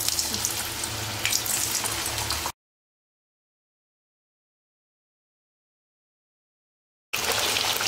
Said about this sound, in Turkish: Yağ iyice ısındıktan sonra patateslerimi atıp kızartıyorum.